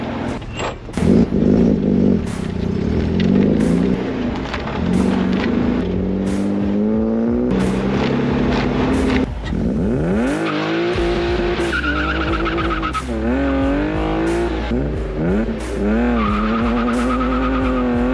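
A BMW E36 drives off and launches, its engine revving up loudly and close with rising and falling pitch, tire squeal and a few bumps along the way.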